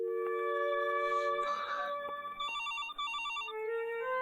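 An electronic phone ringtone trills in repeated melodic bursts, close and steady, with brief gaps between phrases.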